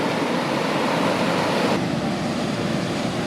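A huge volume of water rushes steadily through a vast irrigation canal in Thailand, making a loud, continuous broadband roar that stays constant and unbroken throughout, with no voices.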